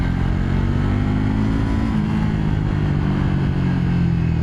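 A Triumph Thruxton 400 single-cylinder motorcycle drones steadily under acceleration, a continuous, close engine tone rising gently in pitch throughout.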